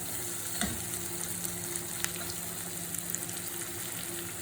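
Prawns frying in a pan, a steady close sizzle with soft crackles and a few brief stirring knocks, no voices.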